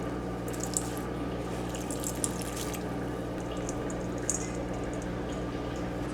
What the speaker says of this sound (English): I'm just going to be squeezing it out with my hands to get rid of all of that excess water